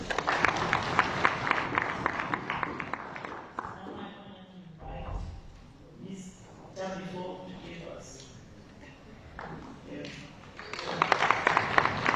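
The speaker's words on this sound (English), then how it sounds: "Another round of applause." Audience applause at a youth budget consultation, loud dense clapping at the start that thins into murmuring and a short spoken stretch, then swells again toward the end.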